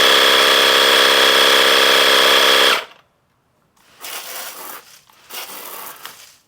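An electric pump pressurizing a DIY pressurized water port system, running as a loud, steady mechanical drone that cuts off abruptly, followed by quieter hissing and rustling bursts.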